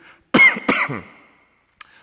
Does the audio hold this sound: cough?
yes